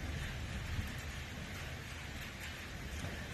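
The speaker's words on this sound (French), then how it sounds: "il y a un peu la pluie pour me réveiller" Light rain falls after midnight during a night storm, a steady soft hiss of drops that stays even and faint throughout, with no voices.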